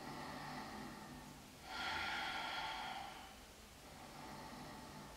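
Slow breathing while holding a yoga posture in a beginner session, a faint airy inhale or exhale swelling for about two seconds over a steady background hiss.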